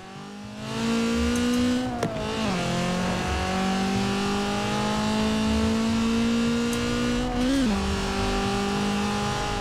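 A tuned car in Forza Horizon 4 accelerates hard with a loud, steady engine drone, climbing in pitch with brief dips at two gear shifts, close and continuous.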